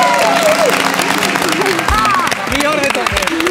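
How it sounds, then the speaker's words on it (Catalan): Applause and cheering for a singer's performance on a live morning TV contest show fill the room as a dense, loud wash of clapping and crowd noise, with voices chattering and calling over it. "Aplaudiments per a Mireia Pérez"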